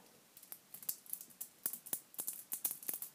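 Rapid, irregular sharp clicks of small neodymium magnets snapping together, crisp and close, with no voices.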